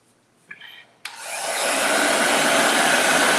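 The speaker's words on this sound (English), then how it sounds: "And then I'm gonna blow dry this again." A hair dryer blow-drying a craft Santa tray, switching on after a couple of faint clicks and ramping up into a loud, steady close-up whoosh that holds to the end.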